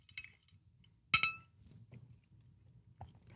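A spoon clinks against a glass while Core Nutritionals Fury pre-workout powder is stirred into water, with one sharp ring standing out among quieter taps and rustles, up close, no talking.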